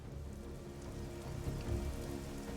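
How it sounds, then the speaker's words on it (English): Steady rain falls in Marvel's Midnight Suns, a soft, even hiss of drops on surfaces that runs continuously and fairly quietly under a low ambient game bed, with no talking. "Also, it's raining."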